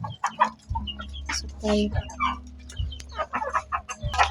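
Pet chickens cluck and chatter up close while being fed coconut, short repeated clucks and low grunts over a nearby voice speaking briefly.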